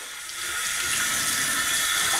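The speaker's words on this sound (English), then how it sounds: "you just want to run the water on the back, on the side, and everything like that to get that scent off" Tap water runs in a steady, close hiss as it pours over a snake being rinsed after laying eggs, starting after a brief moment and holding even to the end.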